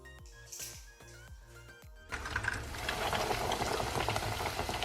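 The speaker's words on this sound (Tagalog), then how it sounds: "So, let's fry lang natin yung pork natin." Breaded pork cutlet coated in panko drops into hot oil for katsudon, bursting into a loud, steady, crackling sizzle that fills the rest of the clip after a few seconds of plucked tonal music.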